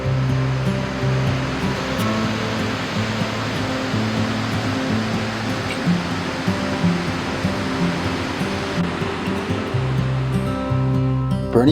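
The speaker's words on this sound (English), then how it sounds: "The water falls 129 feet into the blue pool, and it's not just one big stream." Burney Falls plunging 129 feet into a blue pool, a loud, steady roar of falling water that holds an unbroken wash the whole time, with no voices over it.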